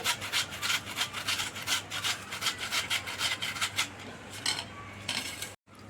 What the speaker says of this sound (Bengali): এবার গ্রেডারে করে ঘষে নেব